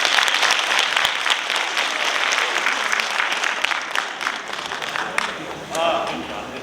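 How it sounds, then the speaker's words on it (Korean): Audience applause at a lecture hall talk on reading, sustained dense clapping from a crowd filling the room, steady and fairly loud throughout, tapering slightly near the end. "박수 많이 부탁드립니다"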